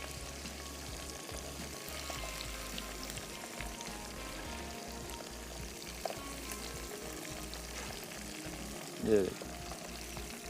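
Chicken pieces for crispy honey chicken frying in hot oil on a stove, a steady low sizzle and bubbling throughout with a brief louder clatter near the end and a few quiet spoken words.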